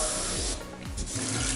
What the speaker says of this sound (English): Every 10 to 15 minutes go and wash your rag in the water.